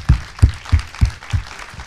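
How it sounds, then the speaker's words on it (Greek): An audience at a university research and innovation centre's sustainable development event applauds the speakers with about six loud, evenly spaced claps in a slow, steady rhythm. "Θα ήθελα να χειροκροτήσουμε λίγο για τους."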